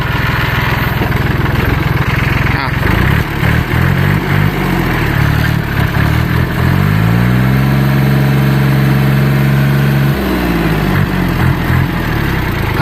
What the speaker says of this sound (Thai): เดี๋ยวพาลองฟังเสียงเกียร์